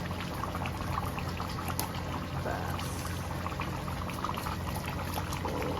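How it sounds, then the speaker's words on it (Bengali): Desi chicken curry bubbles in a pot on the stove, giving a continuous, close, moderately quiet simmering and burbling with small crackles and no voices. "তো দেখতেই পাচ্ছেন আপনারা আমাদের চিকেন কিভাবে ফুটছে।"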